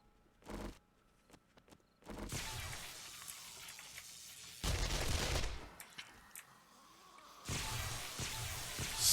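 Explosions and gunfire from a video game with rocket-launched frag grenades, a short blast early on followed by longer loud bursts of shots and crashes, close and alone with no talk.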